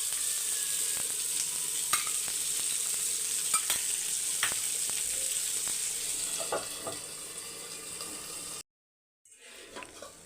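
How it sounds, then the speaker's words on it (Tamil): Kerala-style fish curry boils in a pot with oil separating on top, a constant close bubbling hiss broken by scattered pops and spoon clicks, briefly going silent before the simmering resumes more faintly; no talking. "மீன் குழம்பு பாருங்கள் நல்லா கொதித்து வந்துடுச்சு எண்ணெயும் பிரிஞ்சு வருது"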